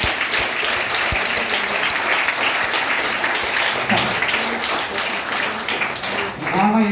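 A large student audience at a motivational class in a government degree college in Jagtial claps loudly and continuously for several seconds, a thick, close roar of hands with a few voices rising near the end.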